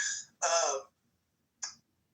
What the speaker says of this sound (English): Nice burp there.